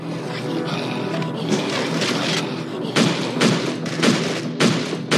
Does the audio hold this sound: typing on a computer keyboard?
no